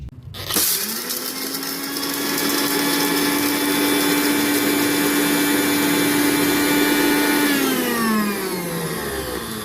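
A kitchen mixer grinder whirs through turmeric, tulsi leaves and garlic for a herbal paste. It spins up with a loud, steady high whine for about seven seconds, then winds down. No voices.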